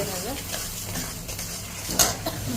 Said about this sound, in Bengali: এবার আমি মশলাটাকে ভালো করে কষিয়ে নিই।